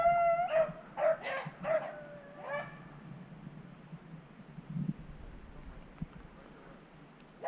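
A hunting dog on a public-land rabbit hunt in Ohio gives a burst of loud, close baying howls, four drawn-out cries in quick succession, then falls quiet while faint rustling and outdoor ambience continue.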